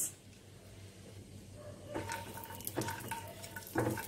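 Cashews and raisins being stirred in melted ghee in a pan make soft, close scraping and light sizzling, growing busier with a few sharper utensil knocks toward the end, no talk.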